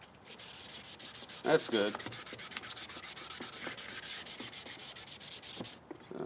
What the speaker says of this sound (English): that's what the lens looks like after you've been water sanding it